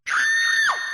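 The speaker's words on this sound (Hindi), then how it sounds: "अचानक कीरा चीखने की आवाज आई" In a horror audio drama, a woman lets out a single loud, sustained scream lasting about a second, rising sharply and ending in a falling wail, alone with no other sound.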